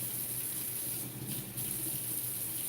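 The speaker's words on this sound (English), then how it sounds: "I'm trying to adjust the water" Tap water running steadily into a bathtub for a puppy's bath, a constant broadband wash with no talk over it.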